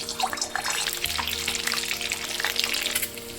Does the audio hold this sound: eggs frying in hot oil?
yes